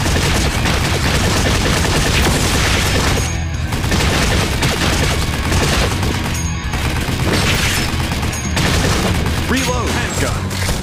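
Machine gun fire in the Time Crisis 5 arcade shooter, rapid sustained bursts of automatic shots with brief gaps between volleys, loud and dense, mixed with game music and occasional voice callouts.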